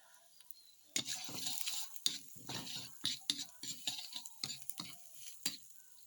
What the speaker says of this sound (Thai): กระเทียมพริกไทยลงนะครับ สักครู่ นะ ครับ เบาๆนะครับ ไฟเบาๆ